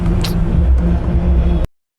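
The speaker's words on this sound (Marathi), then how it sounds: "पूर्ण ट्रॅफिक आहे यार खारघरमध्ये कळंबोलीमध्ये कामोठ्यामध्ये फुल इट टू झेड ट्रॅफिक" Road traffic in Kharghar, with a close car engine rumbling loudly and steadily for under two seconds before cutting off abruptly.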